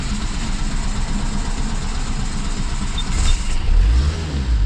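A car's engine turns over and catches after refuelling, settling into a steady idle with a low rumble that rises slightly near the end, recorded close by with no talking.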